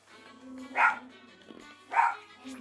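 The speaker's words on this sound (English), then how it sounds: "If you can hear my dog barking" Two distinct dog barks about a second apart, somewhat distant and muffled, over a quiet steady background hum.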